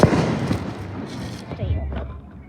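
Fireworks go off in a quick burst of loud cracks and thumps, the sharpest bang at the very start, with scattered pops after it and voices talking through them.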